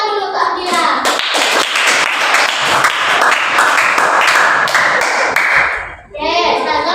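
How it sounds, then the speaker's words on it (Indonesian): Schoolchildren in a classroom clap rhythmically in unison for a classmate, a loud, close burst of sharp patterned claps lasting several seconds, then a brief pause before children's voices resume. "Tepuk tangan dulu untuk Hamdila."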